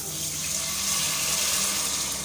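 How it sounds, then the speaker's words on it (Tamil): Steady, continuous rush of tamarind water being poured into a pot, close and fairly loud, with no pauses. "இப்போ ஒரு ஒரு நிமிஷம் வதக்குனதுக்கப்புறம் புளித்தண்ணி சேர்க்கலாம்"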